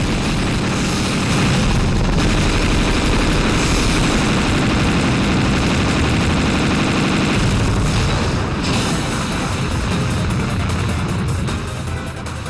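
Dense, continuous explosions and rapid gunfire from a shoot-'em-up boss fight in Eschatos, a loud unbroken wall of booms and blasts lasting throughout with no talk.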